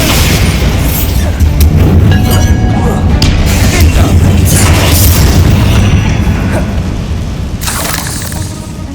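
Bombarda spell blasting in the Hogwarts Legacy video game: a loud, sustained booming explosion with crashing debris and a dense low rumble that persists for several seconds before slowly easing.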